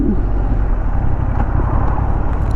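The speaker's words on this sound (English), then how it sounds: "Honda have spent a lot of time on this, trying to get the exhaust note to sound just right" A 2023 Honda Hornet 750 motorcycle sends out a continuous, loud exhaust drone, steady throughout and heard up close with no talking.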